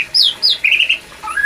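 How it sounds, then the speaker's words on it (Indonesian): A white-rumped shama (murai batu) squawks loudly in a breeding cage, several sharp, close calls that sweep up and down in pitch. "menyatukan calon pasangan murai batu dalam kandang penangkaran"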